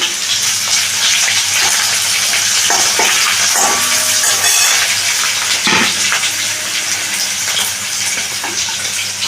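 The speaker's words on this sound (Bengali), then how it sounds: "পাঁচফোড়নটা একটু ভেজে নিচ্ছি। এখানে কুচনো পেঁয়াজ আর কাঁচা লঙ্কাটা আমি দিয়ে দিলাম।" Chopped onion and green chili fry with panch phoron in hot oil, a loud, dense, steady sizzle up close with occasional stirring clicks.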